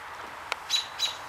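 Birds building a nest by a 4Runner give two short high chirps close by, following a brief sharp click, over a faint background hiss.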